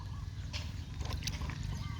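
Fermented cow manure water mixed with plain water is poured onto vegetable plants, a steady sloshing, gurgling stream heard close over a low background hum, continuous throughout.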